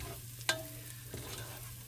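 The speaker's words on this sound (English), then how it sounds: "we're going to add our flour, pepper, and red pepper flakes, okay? And we're going to stir this in" Flour, pepper and red pepper flakes are stirred into onions sautéing in a pot for potato soup, giving a soft steady sizzle with a single scrape or clack of the spoon, close and quiet, without talking.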